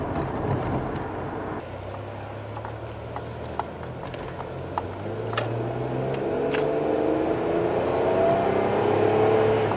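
Chevrolet Impala with a service engine soon light on, driven on the road, its engine rising in pitch as it accelerates steadily over several seconds, with tire and road noise and a few faint clicks, no talking.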